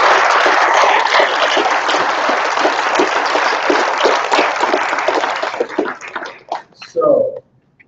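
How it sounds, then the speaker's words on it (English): A large audience gives a sustained round of applause at a university talk, dense and steady, then thinning out toward the end as a voice briefly speaks. "Let's give a round of applause for that."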